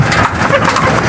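Pigeons coo softly while feeding amid a dense, noisy wash of rustling and fluttering close by, with no clear pauses.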